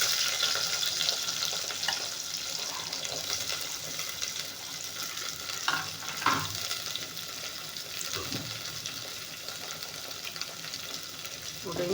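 Onions frying in a pan: a steady close sizzle runs throughout, broken by occasional scrapes and clinks of stirring, with a brief louder flurry near the middle.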